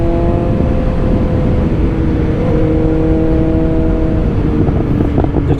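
A 2022 BMW S1000R motorcycle runs along a road, a loud, steady engine drone with wind rush from close by, with no talking.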